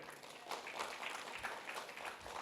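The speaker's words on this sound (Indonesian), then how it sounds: "Tepuk tangan boleh." A church congregation applauds with steady, dense clapping heard faintly from a distance.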